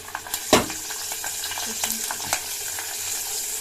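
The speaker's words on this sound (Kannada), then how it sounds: "ಬೆಳ್ಳುಳ್ಳಿ ಎಲ್ಲವೂ ಕೂಡ ಫ್ರೈ ಆಗ್ತಾ ಇದೆ" Garlic and asafoetida tempering sizzling in hot oil in a pan for a village-style massoppu saaru, a continuous crackling fry with a sharp clatter of a spoon stirring near the start and a few lighter scrapes.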